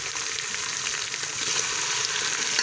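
Chopped tomatoes hit hot oil with green chillies already fried in the pan, setting off a loud, steady hiss of sizzling and crackling that holds without a break and swells slightly toward the end, with no voices.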